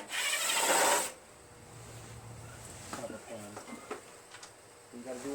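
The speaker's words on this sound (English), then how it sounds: "Got to take off these self-tapping screws that I fabricated into here." Self-tapping screws are backed out of a Craftsman LT1000 lawn tractor with a Briggs opposed-twin engine: a loud gritty tool burst at first, then quieter scattered scraping and clicking metal sounds.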